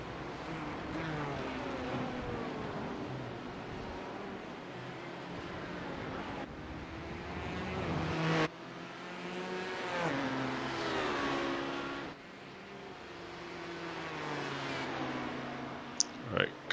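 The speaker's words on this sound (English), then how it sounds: "LMP2 coming up behind you." LMP2 prototype race car engine in iRacing at Monza, a loud sustained engine drone with rising and falling pitch sweeps as gears change, closing in from behind, with a voice speaking over it.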